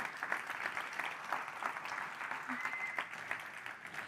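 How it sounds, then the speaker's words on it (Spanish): An audience at a talk about rice and women applauds steadily. The clapping is dense and even and lasts the whole stretch without a break. "yo primero quiero pedir un fuerte aplauso para Lola"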